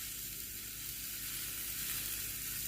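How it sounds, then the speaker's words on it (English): Steady, loud sizzling of lamb gola kebabs frying on a hot sizzling plate, a continuous crackling hiss with no talk over it. "the sizzling plate is now ready, and we're just going to put the kebabs on"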